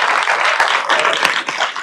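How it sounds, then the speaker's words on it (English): Audience in an office event space at Spotify NYC clapping energetically for a panel, a short burst of dense, close applause with a few sharper individual claps. "a big round of applause for the panel with energy"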